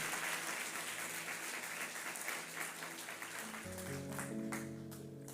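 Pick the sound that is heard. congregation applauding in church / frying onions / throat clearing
congregation applauding in church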